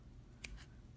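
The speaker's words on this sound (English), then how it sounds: "I'm just going to go ahead and cut mine off" Scissors snip through weaving thread on a branch weaving, a single sharp close cut followed by a fainter second snip over a low steady background hum.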